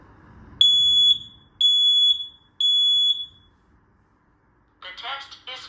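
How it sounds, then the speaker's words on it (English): A smoke detector under test sounds three loud, piercing electronic beeps in an even rhythm, each about half a second long, then falls silent before a synthetic voice speaks. "Testing the smoke sensor."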